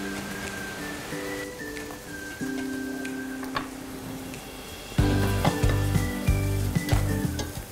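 Onions frying in melted butter sizzle and crackle in a pan, soft at first and then jumping louder and busier about halfway through, with scattered pops and ticks.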